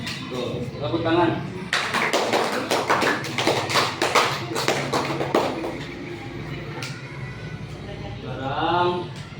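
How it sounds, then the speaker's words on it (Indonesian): Schoolchildren clap their hands in a lively classroom burst that starts after a moment of chatter, many sharp claps in quick succession, then fading as voices take over again. "Tuh, tepuk tangan."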